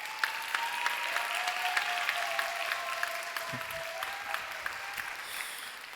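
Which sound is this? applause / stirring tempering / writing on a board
applause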